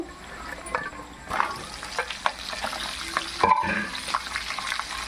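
Green chillies go into hot oil with asafoetida and are stirred, giving a continuous close sizzle and frying hiss with scattered scraping stir strokes and a louder clatter partway through.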